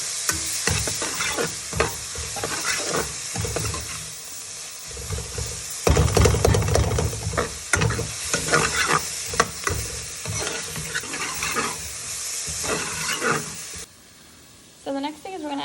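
Garlic, ginger and serrano peppers fry in a pan with a steady broadband sizzle, broken by stirring clatter and louder bursts around the middle, then quieting near the end.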